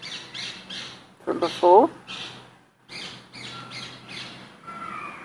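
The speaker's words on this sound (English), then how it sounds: "Rose ringed parakeet." A recorded rose-ringed parakeet call plays back through a phone speaker, giving a brief burst of harsh squawking notes amid faint chirps, with a person talking over parts of it.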